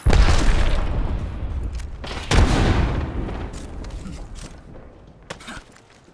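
A frag grenade goes off in Apex Legends: a heavy, loud boom opens the moment, with a second blast partway through, each followed by a long rumbling decay and scattered sharp crackles.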